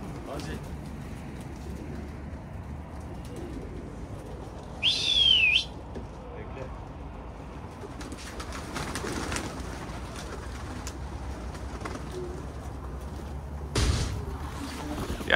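Tumbler pigeons make soft, faint cooing at close range, with a clear whistling call partway through and another near the end, while people talk intermittently over a steady background.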